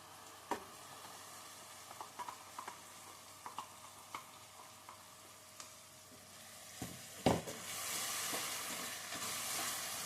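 Tomato paste sizzles in a pan with fried onions for dhaba-style palak paneer gravy, with a steady soft frying hiss, scattered clinks and scrapes of stirring, and a louder, brighter sizzle toward the end.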